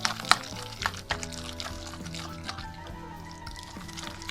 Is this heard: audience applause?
no